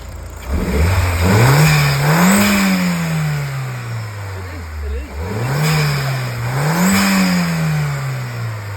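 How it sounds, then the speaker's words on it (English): A 1.8-litre turbocharged Audi TT Mk1 engine, freshly repaired, revs up loudly twice in close succession, each rise climbing smoothly and falling back to a steady idle, with a faint voice in the background. "And let's listen to the engine that it should sound like."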